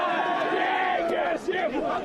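Rugby crowd packed deep along the sideline at a school 1st XV match, a sustained roar of cheering and chatter reacting to a kick, loud and steady with a brief dip partway through.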